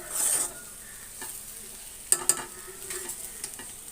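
Ivy gourd with grated coconut is stirred in a hot pan, a soft sizzle running underneath while the spatula makes a few sharp scrapes and clicks against the metal.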